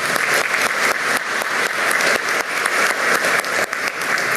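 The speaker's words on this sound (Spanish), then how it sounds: "Fuertes los aplausos para él." Steady applause from a ceremony audience honoring a retired Peruvian National Police major at a democracy defenders' day event, dense continuous clapping throughout with no talk.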